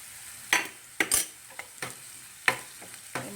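Masala spices for a Rajasthani rabodi ki sabji fry in a pan while a spoon scrapes and clinks against the metal in irregular strokes over a soft, steady sizzle.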